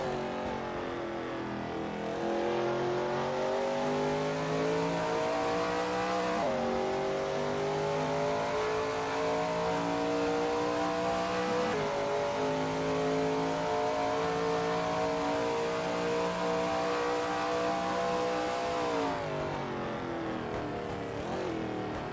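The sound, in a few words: Shelby Mustang GT350R racing at Sebring in a video game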